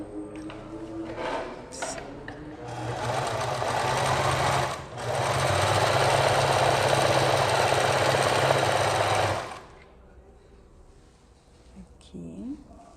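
A sewing machine with a twin needle stitches a hem in knit fabric, running in a steady loud mechanical buzz for several seconds, pausing briefly and resuming, then stopping to softer handling noises.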